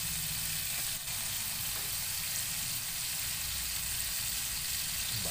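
Chopped onions sauté in margarine in a pan with a continuous, even sizzling hiss, close and fairly quiet, with no talking.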